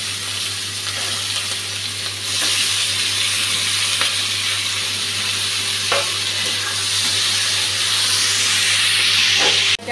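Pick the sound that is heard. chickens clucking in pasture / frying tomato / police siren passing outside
frying tomato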